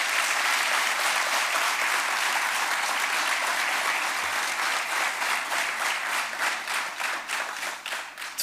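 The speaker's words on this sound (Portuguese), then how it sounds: "uma grande salva de palmas" A large audience applauds loudly at a swearing-in ceremony for new local council members, a dense, sustained clapping that thins toward the end into separate individual claps.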